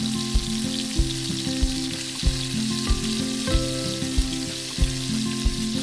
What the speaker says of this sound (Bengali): ফাঁকি আগে আমি ফ্রাই করে রাখছি।